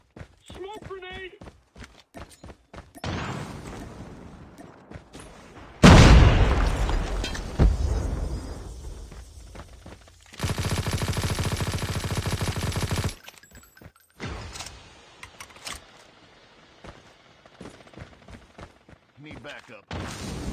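Search-and-destroy video game match with bursts of gunfire, a loud blast and a long hissing smoke grenade, intermittent and punchy, while players' voices call out over the action.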